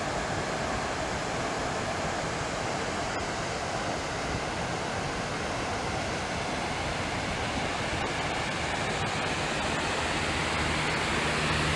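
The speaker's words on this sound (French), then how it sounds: "Et voilà, les chutes vues d'en bas. Avec des petites chutes à côté." Waterfalls near Québec, heard from below alongside smaller falls, roar as a dense, steady rush of falling water. The sound is loud and unbroken for the whole stretch, with no voices.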